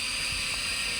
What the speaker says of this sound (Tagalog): mahirap to magpalipat ng drone